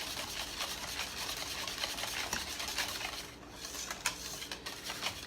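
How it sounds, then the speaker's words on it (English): Butter being stirred into popover batter in a bowl, a continuous soft wet swishing and scraping with a loose rhythm, close but fairly quiet, no talking. "now I'm going to incorporate the batter, or the butter into the batter"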